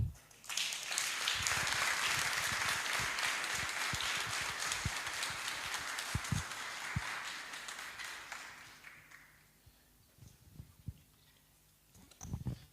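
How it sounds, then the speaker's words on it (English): Audience applause at a leadership seminar, a broad burst of many hands clapping that swells, holds for several seconds and fades into scattered claps. "Can give a better clap, ladies and gentlemen."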